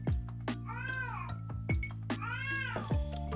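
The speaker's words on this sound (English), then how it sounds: "my cat is gonna wake up my neighbor before I do" A house cat meows loudly and insistently, three drawn-out, wavering cries close to the listener with short pauses between them, heard alone without talk.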